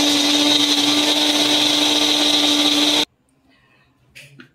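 A blender whirs loudly and steadily for about three seconds, grinding a large garlic bulb and an inch and a half of ginger into paste, then stops abruptly, leaving quiet and a faint bit of handling afterward.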